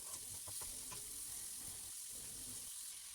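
Cauliflower pieces, parboiled, frying in oil with salt and turmeric while being stirred, a soft constant sizzle with a few faint scraping knocks from the stirring, low in level and without speech.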